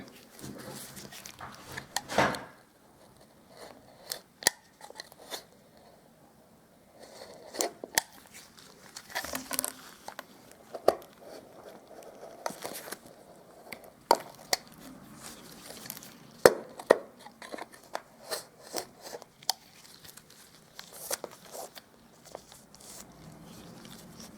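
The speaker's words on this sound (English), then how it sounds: "I think now I'll turn to my Stanley knife" A Stanley knife cutting and scoring woodwork while preparing cracks and holes, a series of short dry scrapes and clicks in uneven bursts with quiet gaps between, close and fairly faint.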